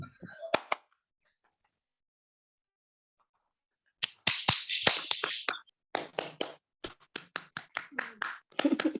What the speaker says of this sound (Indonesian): Tepuk pramuka 3 kali